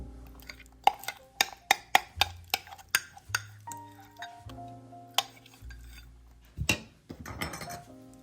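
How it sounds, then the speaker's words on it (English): A spoon clinks and taps against a pot or bowl while chocolate mashed potato fudge mixture is stirred, giving a series of sharp, regular knocks with soft scraping between them and no talk. "we're going to stir in our chocolate mashed potato mixture"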